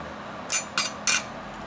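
Eggs being beaten in a bowl with a utensil, heard as three separate sharp clinks against the bowl over a quiet background.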